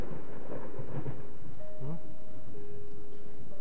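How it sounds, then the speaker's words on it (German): Thunder rolls in the horror video game Layers of Fear, a loud low rumble swelling over the first seconds with a storm and rain-like hiss, fading into a tonal drone near the end. "Blitz."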